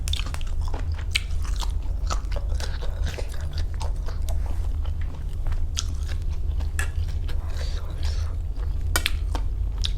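Crunchy, wet chewing of a spicy Thai pig ear salad, with bites and crunches repeating steadily up close for the whole stretch. No talk is heard over the eating.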